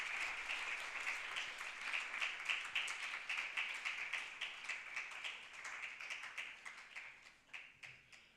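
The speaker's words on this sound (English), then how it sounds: "Round of applause." A modest audience at a campaign launch event applauds, a soft, fairly distant patter of many hands that stays even for several seconds before thinning out.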